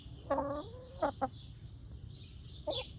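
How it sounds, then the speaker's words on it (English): Several hens cluck close by in short, throaty bursts with pauses between them, over a low, steady background hum. "That's why the chickens are back here."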